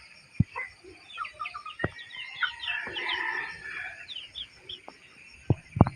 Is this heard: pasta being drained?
no